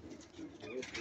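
Soft pigeon cooing, a low warbling call close by, with some quiet background noise.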